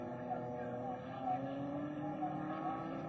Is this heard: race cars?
yes